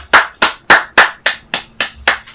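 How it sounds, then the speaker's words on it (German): Eight slow, evenly spaced hand claps, loud and close, during a German multiplayer session of Call of Duty Modern Warfare 3, with no talk over them. "Wow, ein Applaus für diesen Pro Sven."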